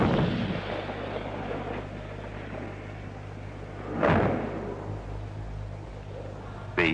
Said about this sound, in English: The 105-millimeter tank gun fired from an M60 main battle tank.